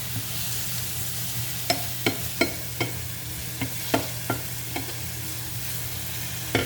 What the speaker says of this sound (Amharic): ከዛ እዚህ ጋር ጓደኞች ሽንኩርት አድርጌያለሁ። በዚህ እናቁላላለን።